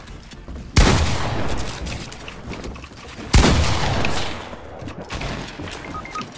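FAMAS rifle fire in Fortnite: two sharp, loud bursts of rapid shots a few seconds apart, each tailing off into echo, followed by a softer volley near the end.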